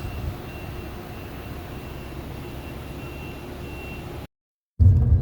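Steady electronic reversing beeps from a bus at an airport in Jeddah, repeating over low engine rumble for about four seconds, then a brief silence and a burst of louder rumble.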